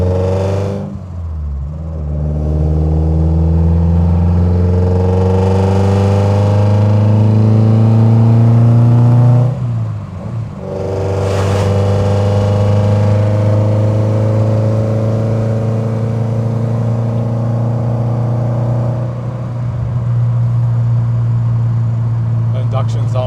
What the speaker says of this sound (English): The induction sound is nice, eh?